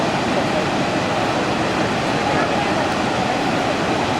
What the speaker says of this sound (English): It goes directly into the waterfall.